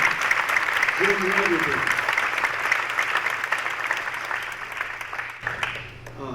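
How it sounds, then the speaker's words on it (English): An audience at a NASA panel with astronauts applauds steadily, dense clapping filling the room, while a voice speaks briefly over it near the start. "let's applaud"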